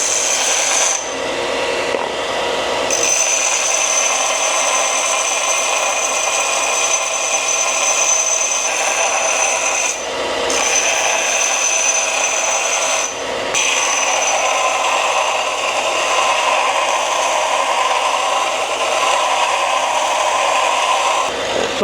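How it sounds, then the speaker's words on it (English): A Harbor Freight Bauer belt and disc sander grinding an aluminum tube, a loud, steady motor whine with a harsh abrasive rasp that runs continuously, with short dips where the metal is lifted away. "it is aluminum, so you don't really have to press too hard to get it to grind down, but it's really chipping away"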